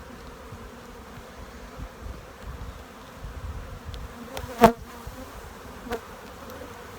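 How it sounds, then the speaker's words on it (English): A swarm of bees being knocked off a frame during a Florida swarm retrieval buzzes steadily throughout, with a sharper rise in buzzing and a couple of brief knocks partway through. "Knocked a lot of bees off inside."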